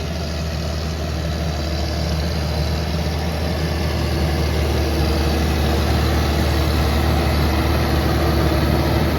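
Tractor engine labouring steadily under load while ploughing a field for rapeseed, a loud, continuous low rumble and drone that holds constant throughout with no talk.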